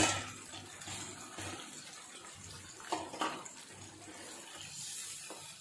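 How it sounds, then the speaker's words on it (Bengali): Water splashes into a cooking pot holding poppy-seed paste, nuts and ground mace, a steady close rush of pouring with a couple of brief louder gushes, no voices. "একটু পানি দিয়ে দিচ্ছি"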